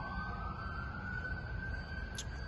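An ambulance siren wails steadily on the road, a continuous rising tone held over loud traffic rumble, fairly near, with a brief high squeak near the end.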